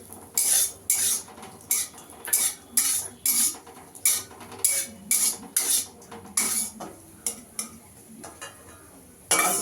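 A spatula clinks and scrapes against a pan in a steady rhythm, about a dozen sharp metallic strokes, while cashews and raisins are lightly fried for semiya payesh.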